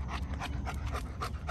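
A dog in an obedience handling session pants steadily in quick repeated breaths, close and fairly loud, with a soft whimper possible; no one speaks over it.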